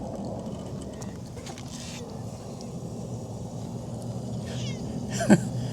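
A cat meows once, short and fairly close, over a steady low rumbling background hum.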